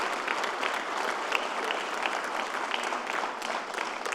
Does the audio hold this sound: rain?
no